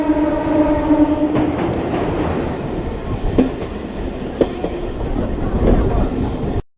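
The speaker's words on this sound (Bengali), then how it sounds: "জয়রামবাটি বাঁকুড়া উদ্বোধনী স্পেশাল ট্রেন ছুটে চলেছে বড় গোপীনাথপুর রেল স্টেশনের পথে" Inaugural special train on the Jairambati–Bankura line rolling toward Bara Gopinathpur station, a continuous loud rumble with rhythmic clatter of wheels on rails heard from on board, a brief horn-like tone early on.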